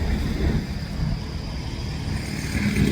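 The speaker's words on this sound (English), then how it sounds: "there's a truck, hold on." A truck rumbles past outdoors, a steady low engine roar that stays loud and close for the whole few seconds, with no voices over it.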